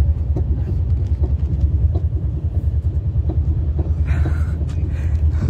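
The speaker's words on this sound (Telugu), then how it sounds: "ఇప్పుడే ట్రైన్ వచ్చింది" A train arriving at a railway station makes a heavy, continuous low rumble throughout, with faint rattles and a light hiss toward the end and no speech.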